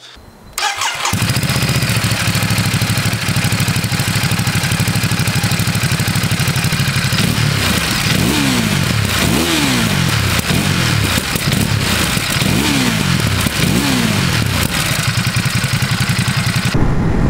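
Ducati Monster SP motorcycle with a Termignoni exhaust starting and then riding, a loud continuous engine drone with repeated rising revs and gear changes, close and steady.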